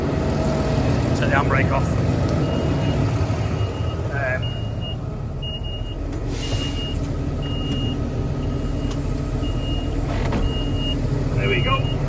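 A tractor engine runs with a steady heavy rumble while being towed, a regular series of electronic warning beeps sounding over it as it fails to select a gear; a person speaks briefly over the noise.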